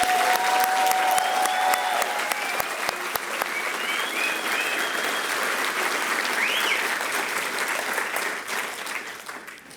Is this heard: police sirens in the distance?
no